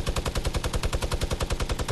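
Rapid automatic gunfire in a shooter video game, a loud close burst of evenly spaced shots at a fast steady rhythm lasting about two seconds with no talking.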